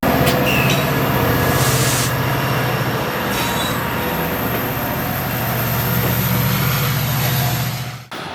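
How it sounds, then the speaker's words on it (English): A Metra commuter train rolling along the rails, a loud continuous rumble of wheels and cabin noise with a few brief squeals and clatters before it cuts off at the end. "I gotta take the train back home because I got work tomorrow"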